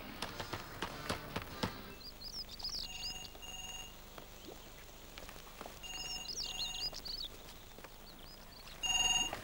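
Telephone rings in a home sound faintly in a British sitcom scene, two paired electronic trills set apart by a pause, over low room noise and a few scattered knocks, with no talk.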